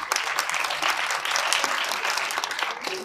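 An audience at a Disability Day event gives sustained applause, a dense, even wash of many hands clapping, fairly loud and without speech on top.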